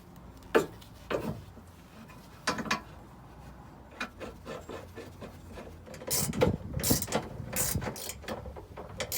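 Ratchet clicking while a bolt with thread-lock is tightened on a Ford Mondeo ST170 restoration, sparse sharp clicks at first, then denser louder ratcheting toward the end, close with no talk.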